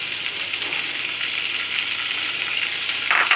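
Bottle gourd peel and onion frying in a pan, a steady, close sizzle that continues evenly throughout, with a brief stirring scrape near the end.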